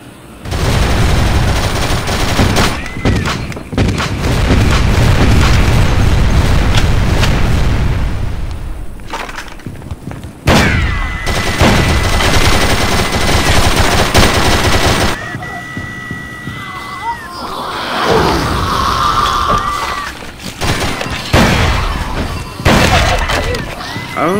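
Dead Trigger gameplay with dense gunfire, heavy booming grenade launcher blasts and shattering impacts in loud bursts, broken by short lulls and electronic game tones near the end.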